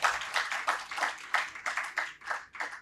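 An audience at a literary lecture applauds to welcome the speakers, a fairly faint, steady patter of many hands clapping that pulses unevenly throughout.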